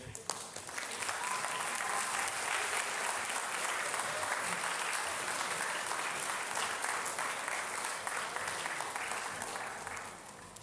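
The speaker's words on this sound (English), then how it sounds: "please give a round of applause to the AHS Music Hall of Fame" Sustained audience applause fills a concert hall at a high school orchestra senior concert, a dense steady wash of many hands clapping for about ten seconds before tapering slightly at the end.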